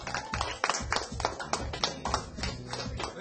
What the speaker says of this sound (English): you all deserve a great big round of applause